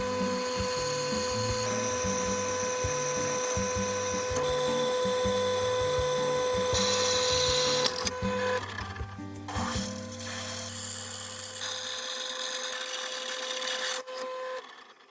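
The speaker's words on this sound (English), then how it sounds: "Drilling the corresponding holes in the plate." Power drill boring holes through 3/16 inch steel plate, a steady whining hum with shifting pitch for about eight seconds, then a quieter spin-down.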